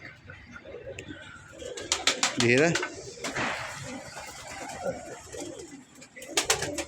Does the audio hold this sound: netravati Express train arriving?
no